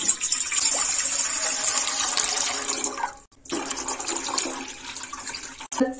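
Water from a jug gushes into a cooking pot on a gas stove while chicken fried rice is being made. The pour is loud and steady, breaks off briefly midway, then carries on.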